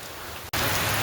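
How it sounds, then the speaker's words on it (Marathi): Heavy morning rain in a village pours down on surfaces as a dense, loud hiss, briefly cut by a split-second gap before resuming even stronger. "काय विचार नका इतका जोरात पाऊस पडाला"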